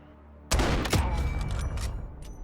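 A sudden loud volley of gunfire in Call of Duty: Modern Warfare, a sharp opening blast followed by a few more shots and sustained rumbling echo.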